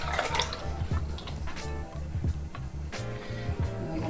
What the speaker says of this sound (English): I just like to pour it back into a measuring cup